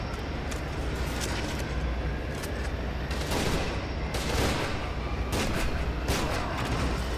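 Gunfire crackles through a firefight in F.E.A.R. 2, with dense bursts and repeated shots in uneven clusters, some louder blasts standing out, and no talking.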